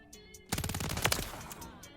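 Rapid automatic gunfire from a first-person shooter game, Modern Warfare 3, erupts as a dense close burst lasting about a second and a half, loud and continuous with no talk over it.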